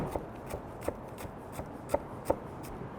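A knife rough chopping green onions on a cutting board, a quiet series of about a dozen irregular thuds and taps, close up with no speech.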